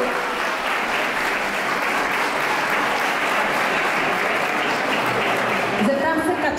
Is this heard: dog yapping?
no